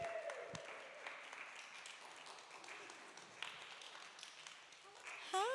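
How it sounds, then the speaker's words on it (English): A crowd breaks into applause, steady clapping filling the room for several seconds, with a few voices mixed in near the end. "Let's give them a round of applause."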